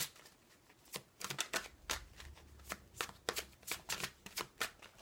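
Tarot cards shuffled by hand in a series of quick riffling bursts with short pauses between, close and fairly quiet.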